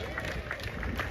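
Audience applause at the live 91st anniversary celebration of Trinidad All Stars Steel Orchestra: a brief, steady wash of dense clapping and crowd noise, moderately loud and unbroken, with a faint murmur of voices underneath.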